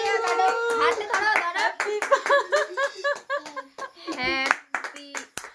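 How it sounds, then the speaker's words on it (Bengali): Family and guests at a child's birthday party sing and cheer close by while hands clap along in a steady rhythm under the voices, with laughter mixed in. "হাততালি"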